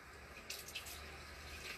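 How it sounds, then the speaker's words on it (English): A measuring cup is rinsed under a running kitchen tap, giving a faint, steady hiss of flowing water with brief splashy surges as the cup passes through the stream. "I'm going to rinse this real quick."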